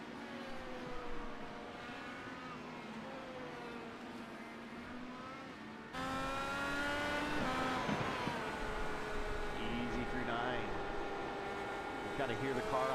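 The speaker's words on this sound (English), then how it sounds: "Kind of hear the car on the edge there." A Formula Indy race car engine in the iRacing simulator at Watkins Glen drones and shifts pitch as it revs. A louder, closer segment comes midway, and a commentator talks over it throughout.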